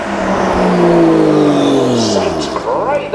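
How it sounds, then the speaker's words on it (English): A Contera MD1 supercar with a 2.5-litre twin-turbo straight-six, capable of 700 horsepower, revs loudly nearby with a rising engine tone and turbo whine, then settles as the pitch falls away, heard at a car show. "Sounds great, that lovely turbo noise from there."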